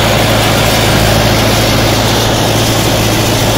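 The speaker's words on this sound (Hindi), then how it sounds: "रोटर बेटर से ट्रैक्टर 595 टर्बो 50 वाला ट्रैक्टर है" Mahindra-style 595 Turbo 50 tractor engine running at about 1700 rpm with a rotavator in a farm field, a loud, close, steady diesel drone with constant low rumble throughout, no talking.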